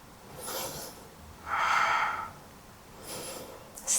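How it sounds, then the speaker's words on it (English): Breathing held in a yoga pose, slow audible breaths through the nose and mouth with a stronger, airy exhale in the middle, close and quiet. "We breathe here."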